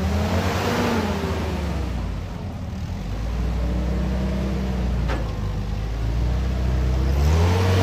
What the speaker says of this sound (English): Billy Douglas in his tricked out CJ3A